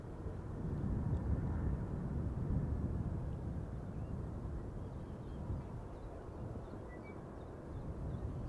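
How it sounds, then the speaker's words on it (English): A United Dreamliner airliner at Schiphol Airport rumbles steadily with a broad jet roar, loudest early and slowly easing as it passes at a distance. "United Dreamliner"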